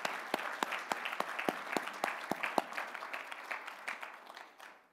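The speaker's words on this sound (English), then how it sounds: "Let's give all of our sponsors a big round of applause." A dinner audience at an engineering awards event applauds the sponsors. The clapping starts brisk and crisp, then thins and fades away over about five seconds.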